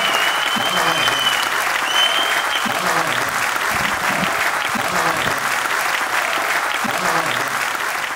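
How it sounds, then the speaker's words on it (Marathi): A large audience at the Kavyasandhya poetry gathering's opening session in Ichalkaranji claps continuously, a full, even roar of hands holding steady for several seconds with faint voices mixed underneath. "एकदा जोरदार टाळ्या झाल्या पाहिजेत."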